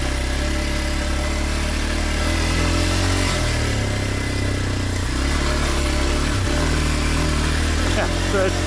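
A Kawasaki KLX 230 single-cylinder, air-cooled motorcycle engine of about 17 horsepower runs steadily up close, with a low, even throb and slight shifts in pitch, while a voice is likely present.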